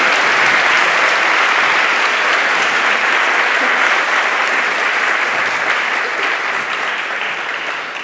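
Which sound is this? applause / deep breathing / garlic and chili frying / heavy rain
applause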